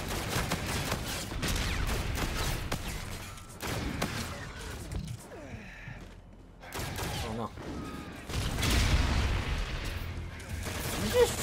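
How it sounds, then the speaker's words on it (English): Rapid gunfire bursts and heavy booms, including a grenade blast, fill a Call of Duty: Infinite Warfare beta match, loud and continuous with a brief lull in the middle, while a player talks over the action. "You just trying to blow me up with a grenade?"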